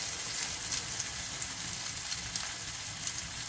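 Sugar-coated French toast made from milk-soaked bread frying in butter in a pan: a steady, close sizzle with faint crackles throughout, and no talking.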